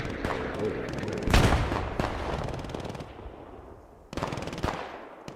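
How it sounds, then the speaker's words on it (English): Light mortar rounds firing and bursting in the WWII combat game Squad 44, sharp loud blasts at intervals with lingering rumble and sparser gunfire between them. "Light mortar coming into play."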